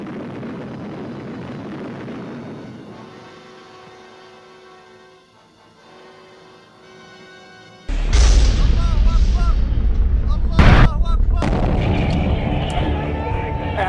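Atomic explosion: a quiet, tonal stretch breaks into a sudden deep, loud roar that rumbles on continuously, with a sharp burst partway through.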